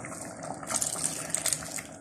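Dissolved chancaca liquid pours into a pot of quinoa mazamorra with a soft, brief gushing splash that swells in the middle and then eases off.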